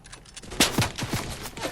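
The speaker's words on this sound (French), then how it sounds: "il y a quelqu'un qui tire dessus" Rapid bursts of gunfire in the video game Fortnite, several sharp shots in quick succession over a background of game sound, fairly close and prominent.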